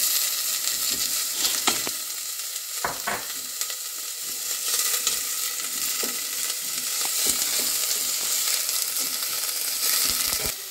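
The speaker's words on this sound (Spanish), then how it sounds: "vamos a incorporar nuestra cebolla para que se sofríe un poquito." Onion sautéing in a pan for the broth of poblano chile and cheese fritters, giving a dense, continuous close sizzle with occasional sharp stirring scrapes and crunches, no voices.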